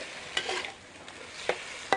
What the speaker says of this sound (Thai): หอมกะปิค่ะพี่น้องแล้วให้กุ้งสุกกับปรุงเลยนะคะ